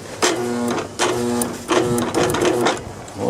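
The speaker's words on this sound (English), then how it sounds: "there's the starter. So it's engaging, but it's not enough to turn the flywheel." A Troy-Bilt TB30R riding mower's starter engages in repeated short whirring bursts, four attempts with brief gaps between them, close and loud, as it fails to turn the flywheel.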